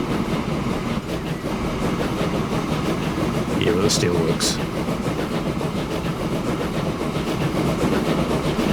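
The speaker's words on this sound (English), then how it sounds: "There's our coal train on the way back down to the coal yard." A coal train rolls along rails in the video game Transport Fever 2, a steady rumbling clatter throughout with a brief metallic squeal midway, while a voice talks over it.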